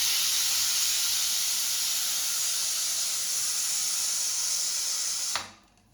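Pressure cooker whistle releasing steam during dessert cooking, a loud, continuous close hiss that holds steadily for several seconds and then cuts off abruptly near the end.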